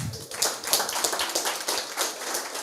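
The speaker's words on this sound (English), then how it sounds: "A round of applause for him." Audience clapping at a debate on a computer cybercrimes bill in Nakuru, with a steady patter of hands sustained throughout, moderately loud and close.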